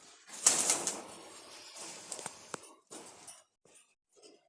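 An old black-line Bagerhat-strain pigeon let loose in a cage, wings flapping in a loud close burst, then scattered shorter flutters and rustles that fade to quiet pauses.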